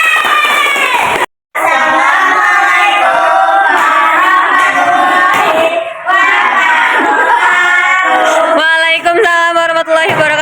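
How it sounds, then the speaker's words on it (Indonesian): Classroom applause from students after a group presentation, a sustained wash of clapping with cheering and shouting voices, briefly cut off early then continuing loudly to the end. "Tepuk tangan nih."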